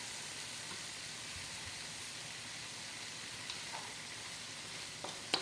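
Aromatics stir-fry in a pan with a steady, close sizzling hiss, the sound continuous and even with a couple of faint stirring knocks near the end and no talking.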